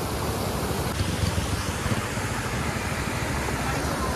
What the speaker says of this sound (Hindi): ये आवाज आ रही है आपको पानी की